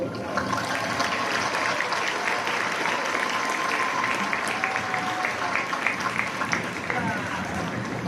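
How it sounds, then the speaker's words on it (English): Graduation audience applauding a student speaker at a Class of 2022 ceremony, a steady, dense wash of clapping that holds at an even level throughout without a break. "we all deserve a round of applause"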